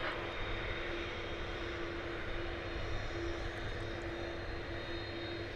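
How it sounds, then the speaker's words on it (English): An MD-11 arriving at DFW airport, its engines giving a steady, broad roar held at constant loudness throughout, with a sustained tonal hum running beneath and no voices. "It's an MD-11 that did come in from Louisville."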